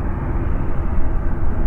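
Airliners at Chicago O'Hare International Airport give off a steady, loud, broadband jet-engine roar that holds evenly throughout with no breaks or distinct events.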